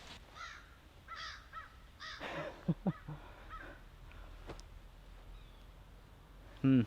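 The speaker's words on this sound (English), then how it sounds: "My friends the crows hanging out with us, our friends, right?" Several crows caw in short, scattered bursts at a moderate distance outdoors, while someone talks quietly in between.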